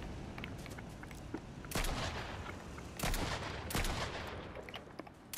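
Gunfire in Fortnite during a squad match: loud, harsh bursts of shots at irregular intervals over a busy background of game noise.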